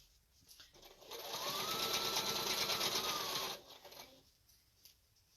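A sewing machine with a walking foot stitches binding in one steady, close, buzzing run of about two and a half seconds, starting and stopping cleanly in a quiet room.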